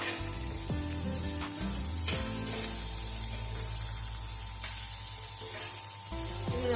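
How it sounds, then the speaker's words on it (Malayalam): Onion and capsicum stir-fry in a pan for a chilli soya chunks dish, giving a steady close sizzle with scraping and stirring clatter throughout, and no talking. "ഉള്ളി വാടി വരുന്നതിന് മുന്നേ നമുക്കിതിലേക്ക് ക്യാപ്സിക്കം കൂടെ ചേർത്ത് കൊടുക്കാം."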